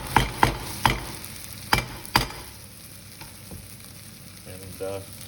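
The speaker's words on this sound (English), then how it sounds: "Onions are frying down, so we'll just put in the chopped bacon." Chopped bacon tumbles into a pan of frying onions with a few sharp knocks of a utensil against the pan, then a soft steady sizzle continues beneath, close by with no talking.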